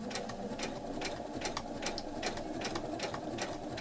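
A sewing machine runs steadily, stitching fabric for a small coin purse, its quick regular needle clatter close and continuous throughout at a moderate level.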